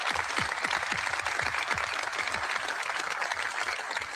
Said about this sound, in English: Another round of applause for our veterans